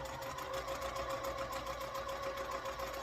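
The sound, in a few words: sewing machine stitching a quilt block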